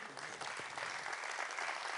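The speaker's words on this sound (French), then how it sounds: "les applaudissements qui vont avec" An audience applauds an award winner at a regional awards ceremony, giving steady, full clapping from many hands that carries on evenly through the whole moment with no talking.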